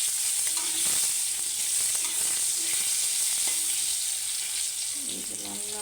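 Fish fries in a pan with a loud, constant sizzle, broken by stirring scrapes and clinks, and a brief voice near the end.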